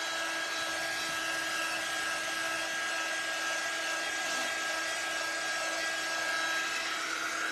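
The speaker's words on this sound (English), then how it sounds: "So we're gonna just dry this real quick." Hair dryer blowing steadily to dry a craft piece, a constant loud airy whoosh with a thin whine running throughout, alone with no talking.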